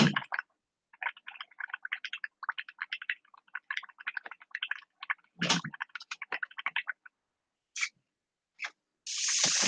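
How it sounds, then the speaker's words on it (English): An Iwata Custom Eclipse airbrush being back-flushed, giving a rapid run of soft bubbling, gurgling pops from the colour cup, broken by short gaps and ending in a steady airy hiss. "So let's just give this a back flush again."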